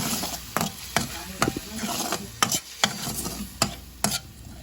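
Mushrooms and pork are stirred in a frying pan over a soft sizzle, with a utensil scraping the pan in about nine sharp, evenly spaced strokes, close and clear.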